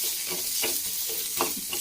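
Onion frying in a pan, a soft continuous sizzle with a couple of brief scraping stirs, short and moderately quiet, with no talking.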